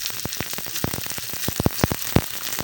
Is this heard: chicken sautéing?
yes